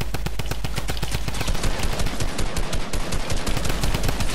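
Rapid automatic gunfire in the battle royale game PUBG, a dense, loud stream of sharp shots fired in quick, steady bursts for several seconds without a break.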